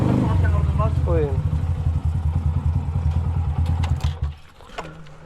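A motorcycle engine runs close by with a rough, pulsing low rumble and clattering, while people talk over it; the engine fades sharply near the end.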